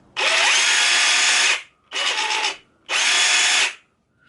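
An Excel 18V cordless jigsaw, model 11752, buzzes loudly in three bursts: a long run of about a second and a half, then two shorter runs, each starting and stopping sharply with brief silence between.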